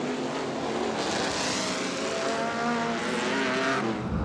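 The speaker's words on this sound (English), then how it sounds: "That is the 1938 Chevy Coupe of Ron Sylvester, being raced by his son here, Grant" Race cars roar along the track at the Waimate 50 motorsport festival, an invitational feature race including a 1938 Chevy Coupe, loud engines sweeping past with rising and fading pitch, no talk.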